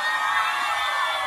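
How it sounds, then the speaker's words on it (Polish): Crowd of girls at a party squealing and cheering together, a loud sustained wash of high-pitched shrieks and whoops with no break. "wszystkie laski piszczą."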